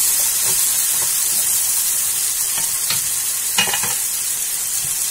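Garlic paste fries with spices in a pan, giving a steady hissing sizzle throughout, broken by a few soft scrapes and stirring knocks, one slightly louder near the end.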